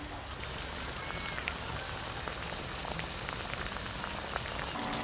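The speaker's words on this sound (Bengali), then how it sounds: "জলটা দিয়ে এবার ভালো করে ফুটিয়ে নিতে হবে।" Small mourala fish curry with bean seeds bubbling in a pot on a village-style stove, a steady soft crackling simmer throughout.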